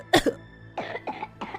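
A sick child coughs loudly in a cold home: one sharp hacking cough, a short pause, then three more rough coughs in quick succession, close and alone without talk.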